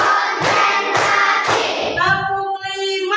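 A class of schoolchildren claps together in counted rhythm, three sharp unison claps evenly spaced, followed by a voice speaking.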